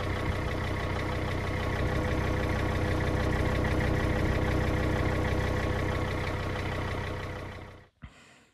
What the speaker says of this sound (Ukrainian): Звук вихлопа до експерименту.